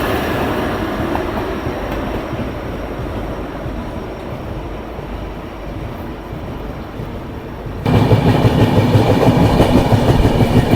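A passing Okha–Gorakhpur Express passenger train (15046) rumbles steadily with rhythmic clatter of wheels on rails in heavy rain, growing suddenly louder and closer toward the end; no talking.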